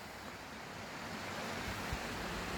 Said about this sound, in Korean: 이렇게 멋진 폭포가 있습니다.